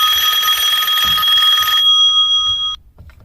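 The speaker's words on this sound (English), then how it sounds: "Sorry, that was my phone." A telephone bell rings loudly and steadily for close to three seconds in a workshop, then cuts off abruptly, leaving faint background noise.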